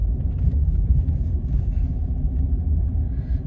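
Low, steady road rumble heard from inside a car on a residential street as it rolls over a speed hump, with no distinct bump and no talk.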